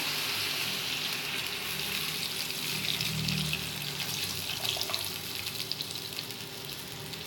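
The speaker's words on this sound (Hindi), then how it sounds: "अभी पानी डाल रही हूँ इसमें।" Water is poured into a pan of frying potatoes for a curry, a continuous rushing pour over a subdued sizzle, heard close with no talking.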